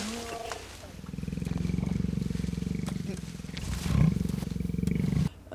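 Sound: lion roaring in the movie Secondhand Lions

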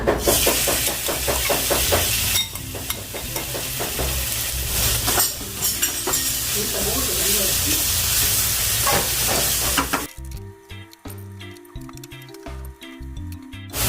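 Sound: pork stir-fried in leftover fried-garlic oil

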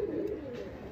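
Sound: pigeon cooing

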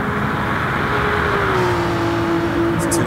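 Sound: 6-litre V12 race car engine, 600 hp

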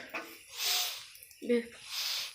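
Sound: sniffling with runny nose from cold

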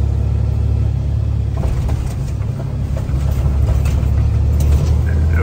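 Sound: electric Amazon delivery van driving in traffic

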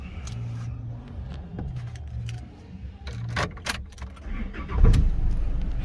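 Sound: Chevrolet Colorado engine being started after remote key install

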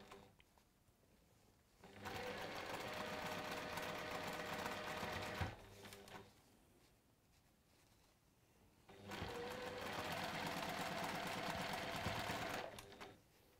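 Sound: sewing machine stitching fabric pieces together in pairs

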